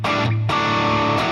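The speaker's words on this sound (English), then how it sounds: "Now I can also switch on the reverb." Guitar amp tone through a Fractal unit with reverb switched on, a sustained distorted chord ringing and decaying into a spacious tail before the next strums, loud and close with no talking.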